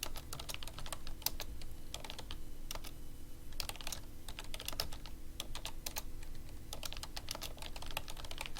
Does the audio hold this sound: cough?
no